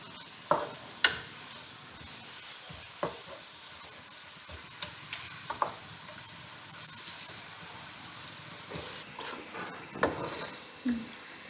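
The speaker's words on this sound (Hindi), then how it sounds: "प्याज को अच्छे से फ्राई कर लेंगे।" A large onion fries in a pan, with soft sizzling under sharp intermittent clicks and scrapes of stirring, fairly quiet and without talk.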